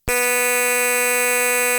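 A 2007 Stylophone set to its harshest buzzy sound holds one steady, loud, harmonically rich electronic tone, like a buzzer. The note starts abruptly and sustains evenly to the end with no talk.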